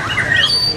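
A white-rumped shama (murai batu) sings at a bird contest in Vietnam, trilling in quick, bright phrases that are close and fairly loud over a busy background.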